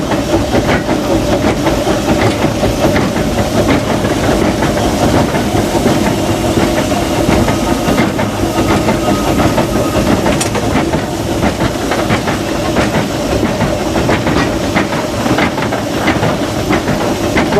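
Disneyland Railroad steam locomotive running, heard from the cab: loud, continuous steam hiss over steady rumbling and rail clatter throughout, with no talk.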